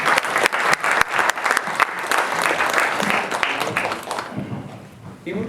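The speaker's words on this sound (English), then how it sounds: "A round of applause for all of you." Audience applause at a Holi celebration gathering, a dense burst of many hands clapping that stays loud for several seconds before thinning out toward the end.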